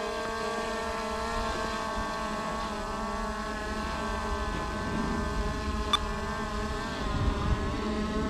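Skydio 2 drone in flight outdoors, its rotors giving a steady, close, high-pitched buzzing whine with layered harmonic tones that barely change over several seconds, with no talk.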